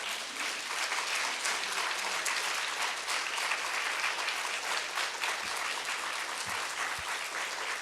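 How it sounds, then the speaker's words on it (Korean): A church congregation at an anniversary revival service claps to welcome an elder, a sustained, dense round of applause filling the hall for several seconds with a few low thumps near the end. "박수로 환영하겠습니다"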